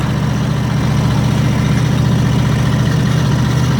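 An RV motorhome engine drones steadily as the vehicle crawls along at low speed, a loud, even, low-pitched rumble with a constant hum and no pauses or talking.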